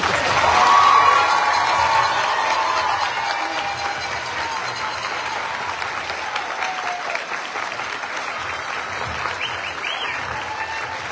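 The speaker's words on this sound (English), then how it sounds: "How about another round of applause for the class of 2024?" A large crowd at a Class of 2024 commencement applauds steadily with scattered cheers and whoops, dense clapping that swells early then gradually tapers off.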